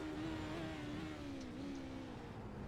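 A Radical SR8 race car, heard onboard at Knockhill, runs its engine at high revs with a steady, slightly wavering whine. The sound is faint overall and continuous, with no voices.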